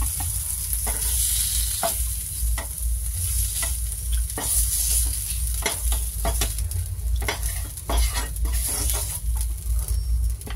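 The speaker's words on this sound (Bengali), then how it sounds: "বাকিগুলো এবার মাখন দিয়ে আর আবার ওইগুলোকেও ভাজবো" Chicken pieces frying in melted butter in a pan, a steady close sizzle with occasional stirring clatters, no voices.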